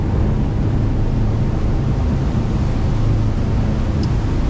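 High-speed boat engines from CJR Propulsion running steadily at 3200 RPM during a sea trial at about 26 knots, a loud continuous low roar mixed with wind and water rush, with no pauses.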